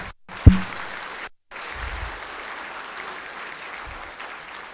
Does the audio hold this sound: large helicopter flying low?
no